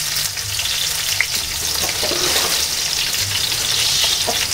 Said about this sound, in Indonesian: Kita bikin brambang goreng.